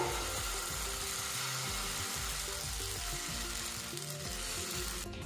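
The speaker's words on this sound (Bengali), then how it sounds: "এবারে এর মধ্যে দিয়ে দেব সুজির ব্যাটার" Semolina batter sizzles steadily in a lightly oiled pan for a carrot-filled breakfast dish, a continuous close frying hiss with low clatter of utensils underneath and no talking.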